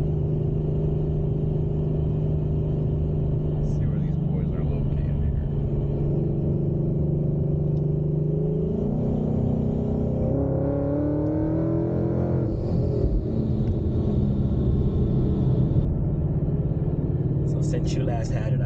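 A supercharged 2018 Mustang GT with a motor resonator runs at part throttle, its steady engine rumble rising and shifting in pitch with a whining, turbo-like character, heard from inside the car throughout.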